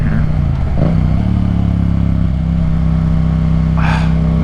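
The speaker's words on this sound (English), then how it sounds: "Damn, there is a lot of traffic on here." Riding a Yamaha FZ-07 on a mountain road in traffic: a steady loud engine drone and wind roar up close, with a passing vehicle swelling briefly near the end.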